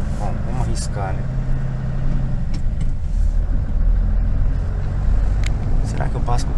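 A truck engine rumbles low and steady while driving on a road in Japan, largely under someone talking throughout.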